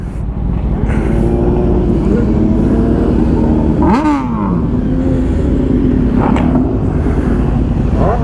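Motorcycles ride in a charity toy run bound for a children's hospital, a steady loud engine drone with rising revs and wind buffeting, several bikes passing close.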